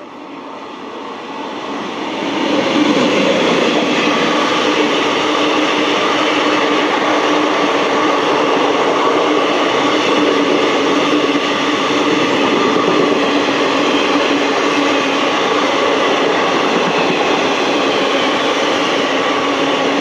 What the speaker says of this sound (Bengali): 13173 শিয়ালদা সাবরুম কাঞ্চনজঙ্ঘা এক্সপ্রেস